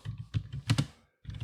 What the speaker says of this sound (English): Be careful typing here